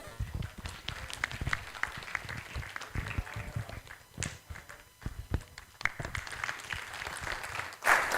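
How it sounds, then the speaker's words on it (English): Audience applause at an international ocean governance conference, a scattered patter of claps running throughout alongside faint background murmur and footfalls, with a louder burst near the end. "I want us to give ourselves a big hand of applause."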